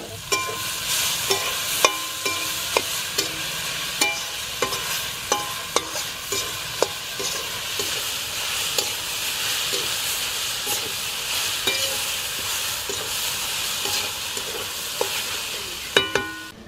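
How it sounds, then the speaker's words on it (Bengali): Boiled lentils and drumstick greens being stirred into fried onions in a village Bengali kitchen, with a steady hiss of sizzling under repeated spatula scrapes and clicks against the pan. "এবার আমি এই সিদ্ধ করা ডাল আর শাকটা দিয়ে দিচ্ছি"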